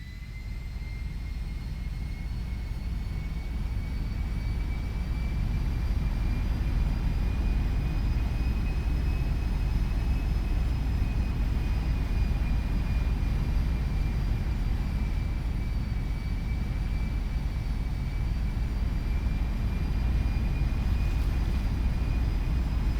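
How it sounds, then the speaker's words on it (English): Airbus A220-300 jet engines spooling up in GTA V, a steady loud roar with a rising high whine running throughout, no voices. "let's start the engines"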